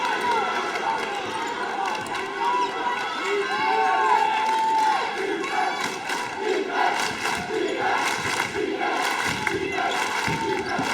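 Crowd noise from a boys high school basketball game, Walpole vs North Quincy, roaring and cheering steadily in a gym after a three-pointer, with shouts and sneaker thuds mixed in and a voice talking over it.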